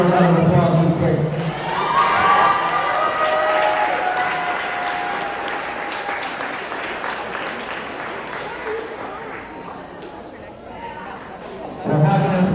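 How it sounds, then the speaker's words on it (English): A crowd at a school athletic banquet applauds the varsity team with clapping, cheers and excited shouting that swells, fades into lighter clapping and chatter, then rises again briefly at the end. "Please give a round of applause real quick."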